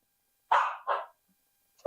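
A dog barks twice in quick succession indoors in an art studio, loud and close, then a third bark starts just as the clip ends; no one speaks.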